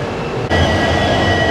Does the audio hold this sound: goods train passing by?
yes